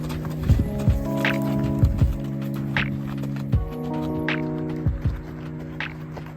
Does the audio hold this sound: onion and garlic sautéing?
no